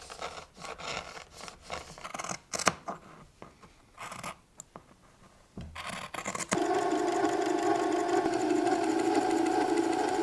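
A sewing machine stitches the shoulder seams of a linen tank top, running steadily and close for the last few seconds after a stretch of fabric handling, rubbing and scattered clicks.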